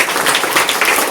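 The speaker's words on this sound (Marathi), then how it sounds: "त्यांच्यासाठी टाळ्या होत्या" An audience at an educational guidance camp breaks into applause, a loud, continuous patter of many hands clapping with no speech over it.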